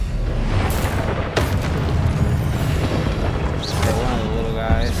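In the PS5 game Hogwarts Legacy, a Confringo fire spell bursts with a heavy boom followed by rumbling, crackling combat noise and spell effects, loud and close.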